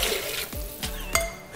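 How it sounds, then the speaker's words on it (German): Half a litre of water poured into a Thermomix bowl that holds softened onions, a short splashing gush with a few glassy clinks, close and fairly loud. "Also, ein halber Liter Wasser kommt rein."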